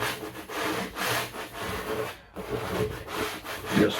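A scraper shaving oil paint off a landscape canvas, giving repeated close rasping strokes in a steady back-and-forth rhythm with one brief pause. No talking.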